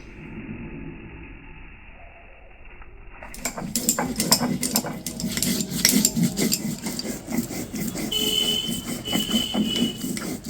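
Whole cumin, ginger and green chilli are ground into a spice paste with a repeated rasping, scraping rub. A quieter stretch comes first, then close, rhythmic grinding strokes continue steadily.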